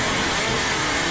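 A monster truck engine revs loudly in a radio ad for a Monster Truck Mayhem event in Philadelphia, a dense, roaring burst of engine noise filling the brief moment with no talk.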